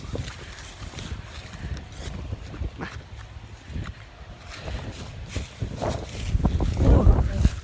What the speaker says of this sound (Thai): เจอลมประมาณ 30 กิโลเมตรต่อชั่วโมงครับตอนนี้